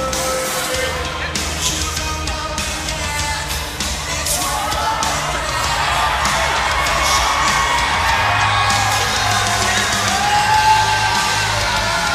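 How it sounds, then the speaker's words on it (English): Wrestling crowd at a GPW singles match cheering, whooping and yelling, a dense sustained roar that swells louder partway through, with occasional shouted voices standing out. "it sounds to me like this crowd already picked the one who they want to win this match"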